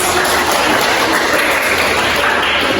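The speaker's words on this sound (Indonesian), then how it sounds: "beri tepuk tangan untuk saya." Dense, continuous clapping from a group, loud and steady throughout.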